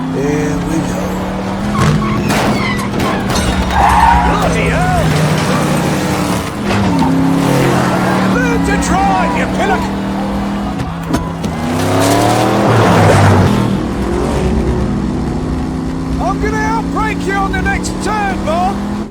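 Race cars from the Ford vs Ferrari film roar loudly and continuously, with rising and falling engine notes, tire squeal and skidding, mixed under an excited narrating voice throughout.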